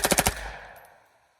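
A rifle fitted with a Hoffman Tactical Super Safety fires a quick burst of four rapid shots at close range, with a decaying echo trailing off afterward.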